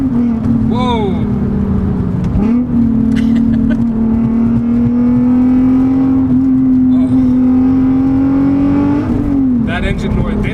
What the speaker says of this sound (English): That engine noise.